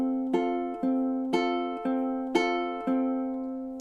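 A ukulele plays a bar of a song as repeated strummed chords in a steady, even rhythm, each strum ringing clearly and decaying before the next, close and alone with no voices.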